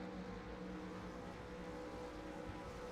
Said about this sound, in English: the revs rise